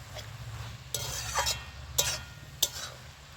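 Greens cooking with a fish head in a pan being stirred, with three or four distinct scraping, clinking strokes of a spatula over a soft simmering sizzle, nearby and fairly quiet, and no talk.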